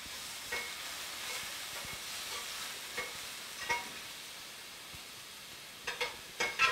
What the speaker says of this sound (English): It's sizzling and it's jumping, so good and hot.